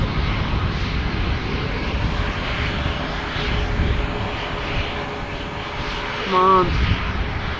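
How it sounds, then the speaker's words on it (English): A TUI Boeing 737 MAX 8 lines up for takeoff at Amsterdam Schiphol, its engines a steady low whine and rumble nearby, with a brief spoken remark near the end. "we have a TUI Max 8 lining up right in front of us over here"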